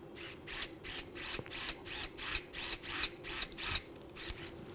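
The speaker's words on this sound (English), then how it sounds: "you remember to drill only the near cortex, because we are putting this screw by lag technique" A surgical power drill bores through the near cortex of bone during distal fibula fracture fixation, whirring in about a dozen short bursts in quick rhythm, with rising whine on each, fairly quiet and close.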